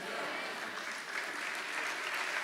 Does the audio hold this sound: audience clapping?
yes